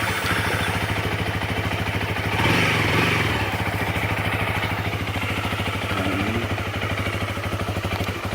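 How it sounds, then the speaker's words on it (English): A Honda Rebel 300 cruiser motorcycle engine, a 2018 model, runs steadily at idle with a rapid, even putter, briefly revving a little louder partway through, close by. "The engine, not bad. Sounds not bad. Decent."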